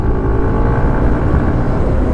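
Honda Navi and Yamaha Aerox scooters climbing uphill toward a high bridge, a steady loud engine drone up close with a faint whine, no talking.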